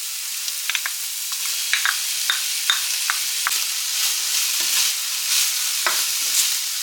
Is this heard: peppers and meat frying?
yes